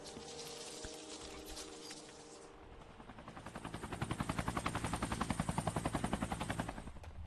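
A helicopter in the video game Hitman Absolution thumps with rapid rotor chop, rising out of a softer mechanical drone and growing louder and more rhythmic toward the end.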